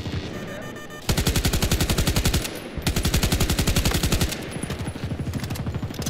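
AK 5C rifle fire in Battlefield 2042 comes in loud, rapid full-auto bursts with a very fast, even rhythm, broken by short pauses between three long strings of shots, with no talk.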